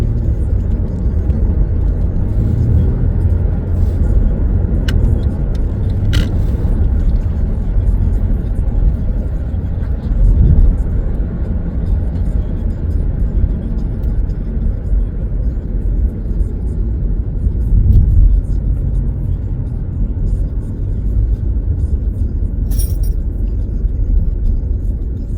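A car travels along a highway, its engine and tire noise forming a steady, continuous road rumble with a few brief clicks, and no talk over it.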